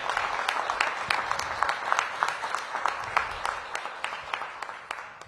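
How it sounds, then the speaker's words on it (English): A round of applause for the newly appointed DC Health Director at a mayoral appointments announcement, moderately loud clapping from a gathered crowd that gradually thins and fades over several seconds. "Give her another round of applause"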